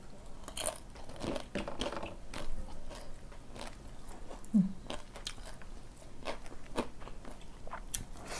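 Crispy fried squid bitten and chewed up close, with repeated crunchy bites and wet chewing running steadily throughout at a moderate, even loudness.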